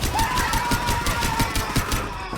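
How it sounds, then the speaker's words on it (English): Rapid full-auto bursts from Eika's Wildfire drum-fed shotgun in Strinova, a steady stream of punchy shots roughly every fraction of a second over a faint whining tone. "She comes with a full auto shotgun named the Wildfire, basically a drum shotgun."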